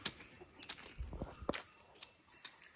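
Backyard chickens peck at scraps with short, soft clucks and scattered scratching and footstep-like taps, faint and close, with no talk over them.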